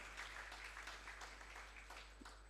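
A conference audience applauds its sponsors with faint, distant clapping, a soft ragged patter of many hands that carries on steadily.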